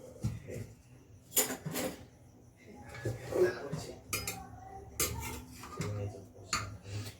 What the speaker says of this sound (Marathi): या ठिकाणी मी कुकर उघडून घेतलेला आहे आणि आता आपण याच्यात आलू काढून घेणार आहे